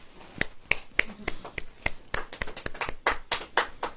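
A congregation at a Hindi church service claps in sharp, irregular bursts, with close individual claps spread across a few seconds and some quiet voices underneath.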